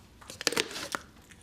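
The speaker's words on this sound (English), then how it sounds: "That sound is the sound of the breastbone being broken." Breastbone of raw poultry breaking under pressure, a brief close crunch with a few crackling snaps, short and fairly quiet with no talk.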